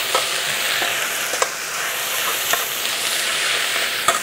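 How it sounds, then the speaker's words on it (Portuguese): Salt cod sautéing in olive oil with onion and garlic, a loud continuous sizzle and hiss close by, broken by a few sharp utensil clicks and stirs; no talking. "Refogar aqui junto com a cebola, com alho e o azeite"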